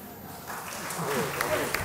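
An audience at a business conference session bursts into applause, a soft, diffuse wash of many hands clapping that swells gradually, heard somewhat distant beneath a voice.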